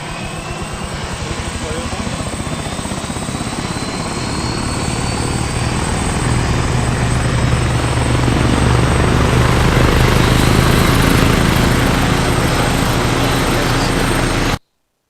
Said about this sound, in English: I'm a helicopter unit sitting on the end of the runway right where we placed us. I can then fly with no problem.